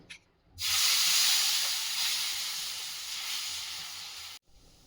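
Coriander dosa batter hits a hot oiled griddle with a sudden loud hiss that holds steady and slowly fades, then cuts off abruptly; no voices.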